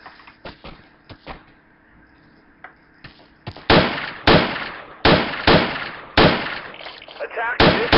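Repeated gunshots in the tactical shooter Project Reality, v0.75, during urban fighting on the Sunset City map: scattered faint shots early, then a run of loud, close, sharp cracks in quick bursts, with voices in the background.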